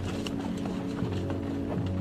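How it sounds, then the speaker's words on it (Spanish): Spanish cavalry horses in a charge near Lima, hooves clip-clopping in a fast, continuous pattern of thuds at close range with no other sounds. "Pizarro realmente hizo que la caballería cargara para defenderse."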